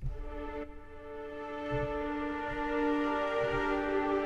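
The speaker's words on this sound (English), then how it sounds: "And then we have the 20 violas." A section of 20 violas from the Hans Zimmer Strings sample library holds a sustained chord, rich and steady, with soft low swells pulsing underneath and swelling slightly louder as it goes.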